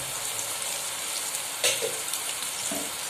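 Cinnamon and dried chili hit hot oil for a Bengali fish korma, giving a steady, loud sizzle throughout with a sharper crackling flare partway through and no voices.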